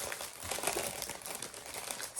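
Crinkling plastic bag holding diamond painting drills being opened, a continuous close rustling and crackling throughout.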